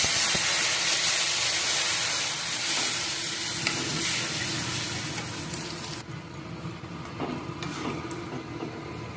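Water poured into a hot pan of fried vegetables for a tilapia fish curry bursts into a loud, steady hiss and sizzle that suddenly thins and quiets after about six seconds, with no voices.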